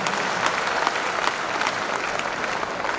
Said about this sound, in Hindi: ताली बजा लीजिए, ये फाइनल है सर।